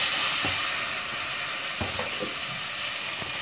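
Tomato paste and grated tomato fry in a pan for tripe soup. A continuous, close hiss of sizzling runs throughout, with occasional soft scrapes and taps from stirring.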